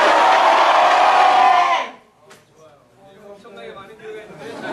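A large church congregation shouts their church names all at once in a loud, roaring burst lasting about two seconds, then breaks off into scattered murmurs and a faint voice.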